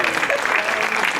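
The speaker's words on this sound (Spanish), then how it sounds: "Dale un aplauso al Señor." A church congregation claps in a brief burst of lively applause, steady and close throughout.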